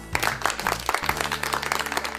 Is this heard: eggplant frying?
no